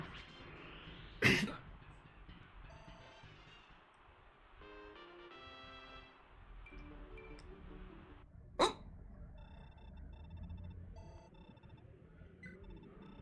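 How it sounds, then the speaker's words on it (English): A person hiccuping while gaming, two sharp, sudden gulping bursts about seven seconds apart, standing out from quiet game music and tones. "Hiccups end sooner or later"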